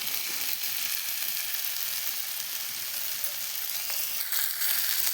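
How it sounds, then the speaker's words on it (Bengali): A mixed vegetable curry, spiced with cumin and Kashmiri chili powder, fries in a pan as it is stirred, making a constant soft hiss with occasional stirring scrapes near the end and no talking. "এবার তরকারিটাকে নেড়ে নেব।"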